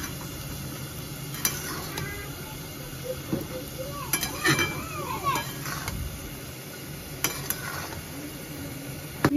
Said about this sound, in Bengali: আর এদিকে কচুর শাকটা একবার নেড়ে দিই